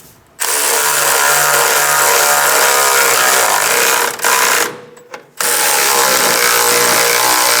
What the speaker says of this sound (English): Using a 14mm, snug down the nuts.